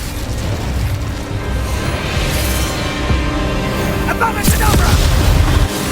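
A fiery Incendio spell goes off in Hogwarts Legacy as a dense roar of booms and crackling bursts under a busy battle soundscape, with a sharper flare near the end.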